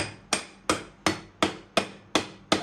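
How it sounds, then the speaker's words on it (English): A plastic hammer strikes a wood lathe's metal pulley seven times at an even, steady pace, each close, sharp knock ringing briefly before the next. "So now again we need to hammer this side."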